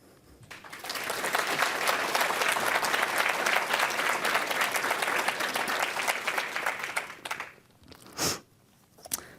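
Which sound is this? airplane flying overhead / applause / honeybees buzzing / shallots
applause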